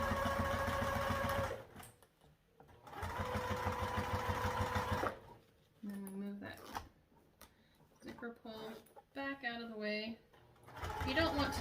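A home sewing machine runs a basting stitch in two steady, buzzing bursts of rapid needle strokes, close and clear, followed by quieter handling noises and someone speaking.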